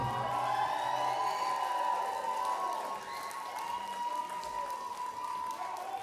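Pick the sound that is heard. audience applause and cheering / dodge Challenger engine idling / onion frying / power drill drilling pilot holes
audience applause and cheering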